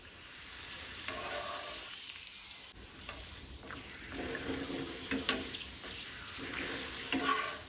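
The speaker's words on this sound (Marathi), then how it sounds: "पापड हांव आतां तेलान सोडटा." Urad dal papad frying in hot oil, a steady close sizzle and bubbling hiss with brief crackling bursts, with no voices.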